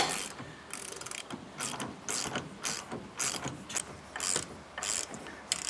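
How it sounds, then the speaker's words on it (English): Ratchet wrench with a 15/16 socket tightening the end link of a Roadmaster rear anti-sway bar on a 2023 Ford F-53 chassis, giving repeated bursts of close, crisp clicking in an uneven rhythm with brief pauses between strokes. "we're going to be using a 15/16 socket and wrench"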